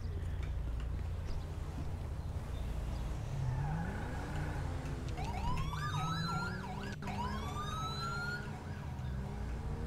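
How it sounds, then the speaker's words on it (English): Police car sirens in GTA V with the LSPDFR mod wail and yelp in rising, sweeping tones from midway on, loud over a steady engine and traffic rumble, with no talking. "we probably shouldn't have put our sirens on right there"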